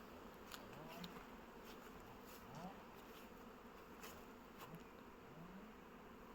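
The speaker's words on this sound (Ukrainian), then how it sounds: "Ну, подивився, літають усі сім'ї." Honeybees fly and hum at an apiary, a steady faint drone of many insects with individual bees buzzing past now and then, recorded quietly outdoors.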